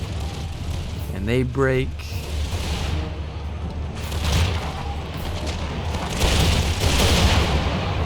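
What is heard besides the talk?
flanking musket fire in video game Empire mod battle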